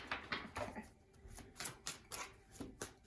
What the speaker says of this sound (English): This deck sometimes is a little bit stiff and harder for me to shuffle